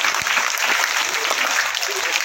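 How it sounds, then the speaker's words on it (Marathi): A group of people claps in a sustained round of applause, dense and fairly loud throughout, with voices mixed in beneath the clapping. "तुम्हाला टाळ्या वाजवा रे सगळेजण"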